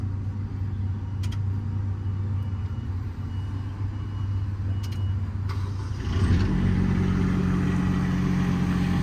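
A 2015 Ford F550 work truck with a crane and mechanics bed idles steadily, a loud continuous low engine rumble that swells slightly near the end, with faint beeps early on.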